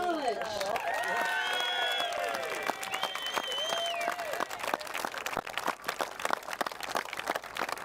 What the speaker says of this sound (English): Big round of applause as we hand the Morris Jones Cup to our champions